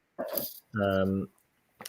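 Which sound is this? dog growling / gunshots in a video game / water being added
dog growling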